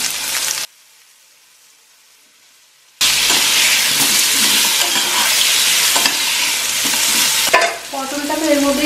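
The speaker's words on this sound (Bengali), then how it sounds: "তেল গরম হয়ে গেছে, এবারে আলু ভেজে নিচ্ছি।" Potatoes hit hot oil with a loud, dense, hissing sizzle. It stops for about two seconds of near silence, then resumes at full strength with stirring noise, and a clattering, tonal scrape comes near the end.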